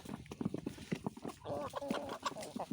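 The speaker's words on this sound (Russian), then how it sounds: "Как куры чихают" Chickens sneezing and clucking softly while pecking dry feed, short snorting bursts mixed with pecking taps and a few close, moderately loud vocal calls.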